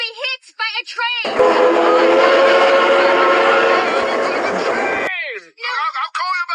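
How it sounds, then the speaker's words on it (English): A train is heard bearing down on a car stalled on the tracks: a loud, sustained multi-tone whistle blast lasting several seconds over rumbling rail noise, with people talking before and after it. "the car is on the train tracks and the train is coming."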